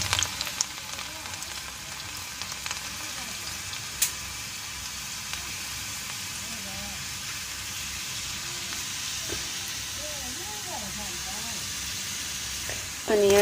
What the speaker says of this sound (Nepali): अब यहाँ सिस्नो झान्न थालेको टक्क लसुन फुराइदिने